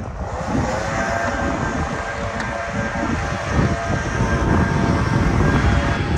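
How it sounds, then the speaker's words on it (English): Blower running inside a new house under construction in Lake Havasu, heard as a steady loud broadband roar without a break. "There's a guy in there doing the blower"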